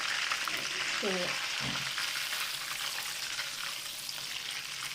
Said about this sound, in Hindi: अब इसमें जाएगा बटर। ठीक है, तो बटर मैंने डाल दिया